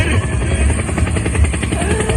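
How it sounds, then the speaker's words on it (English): A helicopter's rotor thumps in steady rapid pulses over a loud, dense rumble, with music or other noise mixed in throughout. "Helicopter, helicopter!"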